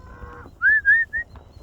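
Cows lowing during a cattle drive, a few close, drawn-out moos in quick succession over low rumbling background noise, with no talk.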